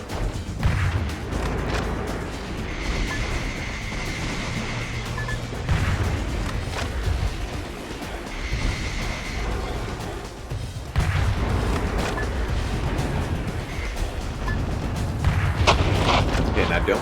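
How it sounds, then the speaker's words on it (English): Assault rifle gunfire and heavy booms in a video game form a dense, continuous barrage with bursts rising and falling throughout, while voices talk over it. "It's either a machine gun or an assault rifle. It's probably an assault rifle."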